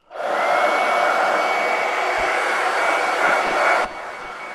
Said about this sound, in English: now I'm just going to hit this with a hairdryer